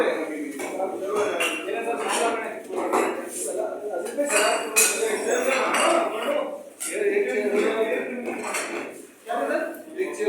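A lid set onto a cooking pot of korma, metallic clinks and clatter of pots and utensils under ongoing talk.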